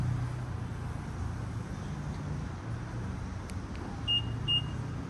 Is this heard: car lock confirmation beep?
yes